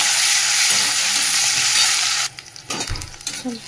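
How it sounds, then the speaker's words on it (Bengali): A tempering of spices, dried chili and bay leaf fries in hot oil with a steady loud sizzle, then drops away into sparse stirring clatter as onion goes in. "ফোড়নটা একটু ভেজে নিচ্ছি"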